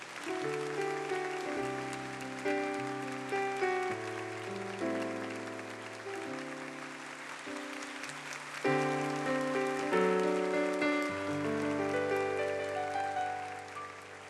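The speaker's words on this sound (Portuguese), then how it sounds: "Será que isso merece uma salva de palmas" A congregation gives a round of applause at a church gathering: a soft, continuous wash of clapping that runs beneath sustained music with changing chords for the whole stretch.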